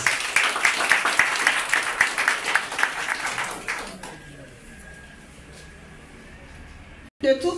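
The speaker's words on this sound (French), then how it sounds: "applaudissez pour nous" Applause from an audience at the inauguration of a hospital in St-Marc, a dense patter of clapping for about four seconds that then gives way to quieter room noise.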